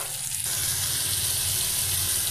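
Water is poured into masala frying in oil for a rohu fish and tomato curry, giving a steady hiss and sizzle that holds loudly through the whole moment.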